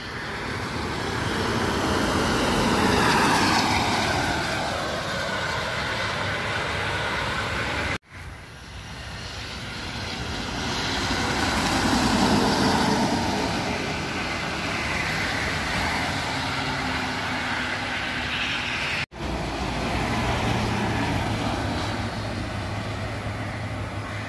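A PO Haryanto coach passes on the Trans Java toll road near Km 583 amid other traffic. A broad whooshing roar swells and fades in long waves, with a few abrupt cuts between passes.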